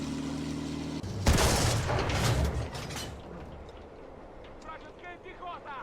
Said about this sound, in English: let's try to put some rounds down range here at this building